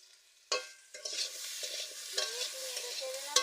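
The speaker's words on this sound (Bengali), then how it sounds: "নেড়ে চেড়ে নেব।" Potatoes fry in a hot pan with a bay leaf and salt, sizzling steadily while a utensil stirs and scrapes them in several close, uneven strokes, with a sharp clack near the end.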